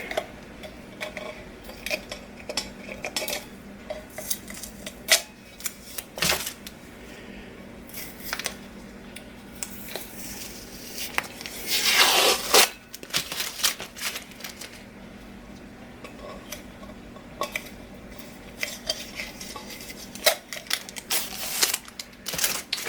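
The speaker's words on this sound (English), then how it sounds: "Just peeling the tape off." Tape peeled off a sublimation sippy cup tumbler, heard as scattered crackling and ticking handling noises with one longer ripping strip in the middle, close and fairly loud.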